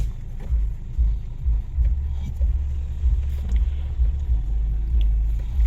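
Heavy expressway traffic rumbles low and loud, a continuous deep roar of passing vehicles with surges and swells.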